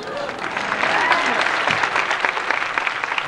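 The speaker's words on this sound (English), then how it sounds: "you got all the applause from the folks" Audience applause right after Max's big jump from way up top, a dense, steady burst of clapping from a crowd of folks that holds strong throughout.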